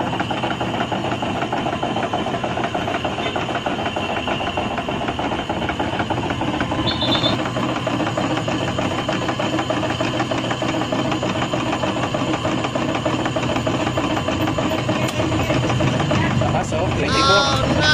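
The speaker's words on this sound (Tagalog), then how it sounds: "Bakit hindi nga ba makapag-produce ng ice cream itong ating Munares na ice cream machine mga kamaster." A Munares ice cream machine running on R404a refrigerant hums with a steady, loud mechanical drone and constant vibration throughout, while someone talks over the noise.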